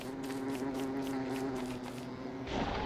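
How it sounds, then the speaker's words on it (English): A steady, close insect buzz from a bee in the Don't Starve video game hums alone for a few seconds, with a low, droning tone and faint rhythmic pulsing. "Seriously, where did that bee come from?"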